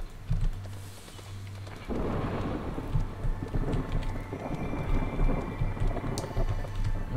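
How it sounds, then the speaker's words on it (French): A storm rolls in within the video game Against the Storm: steady rain hisses loudly while low thunder rumbles and booms underneath, with a repeating low musical drone in the background. "La tempête arrive."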